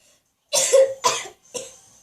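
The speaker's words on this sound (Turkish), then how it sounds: "Öksürüyor." Three harsh coughs in a row, close and fairly loud, with short pauses between them.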